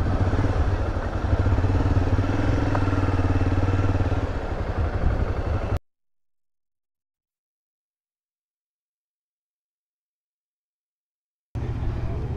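A Honda XRE300 motorcycle engine drones steadily with road noise, then cuts to complete silence for several seconds before the engine sound returns.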